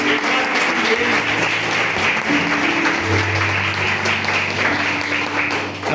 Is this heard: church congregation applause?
yes